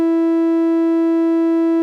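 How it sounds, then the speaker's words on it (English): A Yamaha CT-810 stereo tuner puts out its recording calibration tone, a pure, steady, loud electronic hum with bright harmonics that holds unchanged throughout, with no other sound. "When you switch the knob over there, the machine produces a tone so you can calibrate your tape recording levels."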